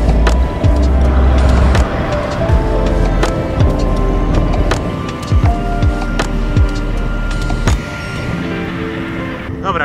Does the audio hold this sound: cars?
yes